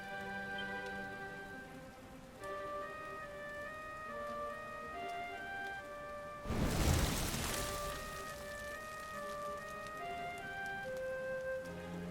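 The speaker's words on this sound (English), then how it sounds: "Looks like the rain's dying down." Soft rain patters steadily in the Dragon Quest XI video game beneath gentle sustained musical tones, with a brief louder gust of rain swelling midway.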